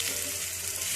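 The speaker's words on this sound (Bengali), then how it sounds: "হাফ কাপ মতো জল দিলাম।" About half a cup of water splashing over flattened rice in a pan, a brief, soft, steady hiss and trickle heard close up.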